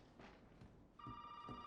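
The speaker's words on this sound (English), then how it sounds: "Come down here, shortly after, and the phone will ring." A telephone rings in the Resident Evil 7 video game, a steady electronic ring that starts partway through, faint and alone, with soft footsteps before it.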